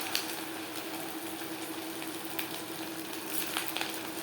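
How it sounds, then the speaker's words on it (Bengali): Semolina gulab jamun sweets frying in hot refined oil in a pan over medium flame, a faint steady hiss of bubbling oil with light pops, no talk. "তেল আমি হাই ফ্লেমে গরম করে নিয়েছি মিষ্টিগুলো ভাজবো মিডিয়াম ফ্লেমে"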